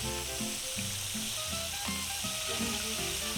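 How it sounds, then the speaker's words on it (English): Steady sizzling of homemade pilot food frying in a pan, a continuous crackling hiss with soft, regular clicks beneath it. "these have been frying for a little while and we're ready to turn them"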